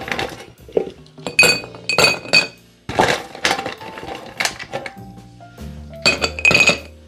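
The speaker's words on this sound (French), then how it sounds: "On va donc remplir notre verre de glace." Ice cubes clinking and rattling into a cocktail glass while a Zombie cocktail is prepared, a series of bright glassy clinks in several bursts, close and fairly loud, with no talking.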